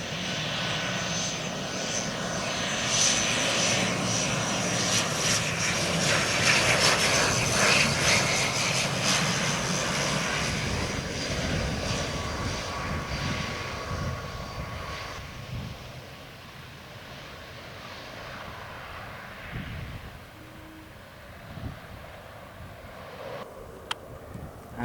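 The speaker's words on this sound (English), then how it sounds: "this flight just came in from Trinidad. This is the afternoon flight from Trinidad" A LIAT passenger plane arriving from Trinidad at Argyle International Airport roars past outdoors, its propeller engines loud at first and then fading slowly into distant wind-buffeted rumble.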